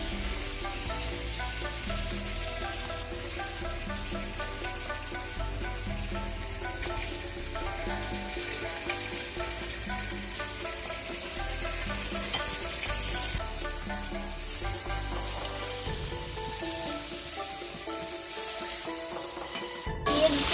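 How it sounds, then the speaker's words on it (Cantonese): Taro cakes coated in cornstarch fry in a pan, giving a soft, steady sizzle that holds evenly for about twenty seconds, fairly quiet, with a brief clatter near the end. "就已經準備好煎呢啲芋頭糕啦"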